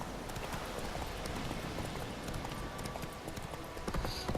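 A horse's hooves clip-clop steadily in The Witcher 3, a quick even patter of hoofbeats under a constant dense background, no voices.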